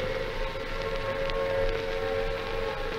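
Wartime air raid sirens wail over Trafalgar Square, near the steps of St Martin-in-the-Fields, during the Second World War: a steady, continuous drone that holds loud and unbroken throughout.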